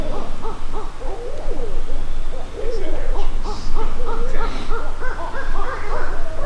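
Several owls hoot back and forth at night in Iowa woods, a steady overlapping series of soft, rounded calls at moderate distance with no talking.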